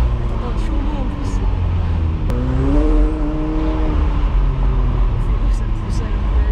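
A light turbocharged supercar engine revs and pulls hard in Paris, its pitch climbing steadily after a brief shift, loud and close, with voices talking over the drone.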